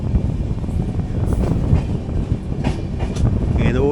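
Mangala Lakshadweep Express train slowing down, heard from on board as a steady rumble of wheels with occasional clatter and a faint squeal near the end, no talking.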